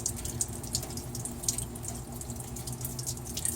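Steady trickle and drip of water draining from a Dodge Ram heater box, with scattered brighter splashes over a low constant hum, fairly close and continuous.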